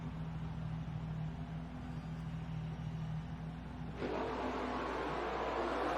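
Race cars in a WEC endurance racing video game at the Ring pull away together at the race start, a steady engine drone with a brighter surge of revving noise after a few seconds, no talk.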